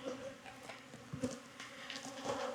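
Honey bees buzz around hives in an apiary in Jacksonville, Florida, a faint, continuous hum with individual insects swelling briefly louder as they pass close.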